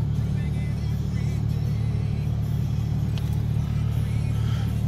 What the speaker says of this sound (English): There's a lot of trucks, huh?